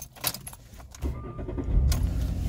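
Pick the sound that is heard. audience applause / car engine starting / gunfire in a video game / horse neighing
car engine starting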